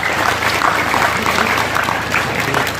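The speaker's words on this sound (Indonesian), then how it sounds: "Tepuk tangan untuk puskesmas." A gathered crowd at a National Santri Day event claps for the community health centre staff, a short, steady burst of dense applause with a low hum underneath.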